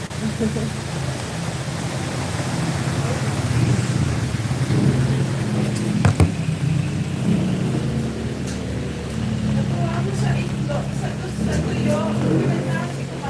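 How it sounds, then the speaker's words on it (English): Heavy rain pours steadily on a street in Pampanga, Philippines, with a dense, loud wash throughout and a few sharp cracks that may be thunder, while voices talk faintly underneath. "Yeah, it's so rainy."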